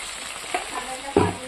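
Meat being braised in a pan at home sizzles and fries steadily, with a sharp hiss bursting up as water is poured in near the end, close and fairly loud.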